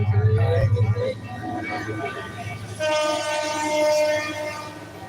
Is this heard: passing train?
yes